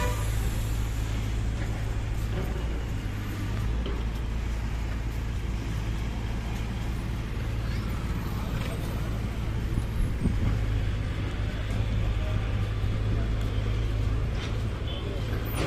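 APSRTC buses idle and move at a busy Andhra Pradesh bus stand on the NH 216 route, with a steady low engine rumble and traffic noise throughout while someone talks over it.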